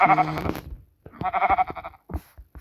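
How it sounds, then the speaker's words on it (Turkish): A sheep in the Minecraft video game bleats twice in quick succession, a clear, nasal, wavering call, followed by a short third bleat, loud and close with no talk over it. "Şu koyun yesene."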